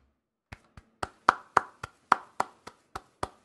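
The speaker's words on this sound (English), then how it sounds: "I figured that was worth a clap." A dozen or so sharp, crisp hand claps at a steady, slightly uneven pace, each one close and clear against silence, with no voices.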